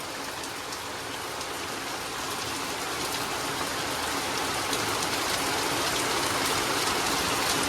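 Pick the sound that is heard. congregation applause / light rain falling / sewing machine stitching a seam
light rain falling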